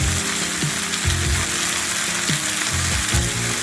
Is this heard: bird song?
no